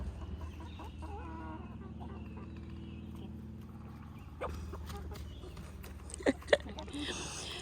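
Chickens cluck softly nearby over a low background hum, with a few sharp knocks and rustles toward the end.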